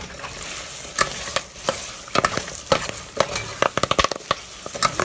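Lemongrass, ginger, galangal and kaffir lime leaves frying in a pan and stirred briskly, a loud close sizzle broken by rapid spatula scrapes and taps that quicken toward the end, no talking.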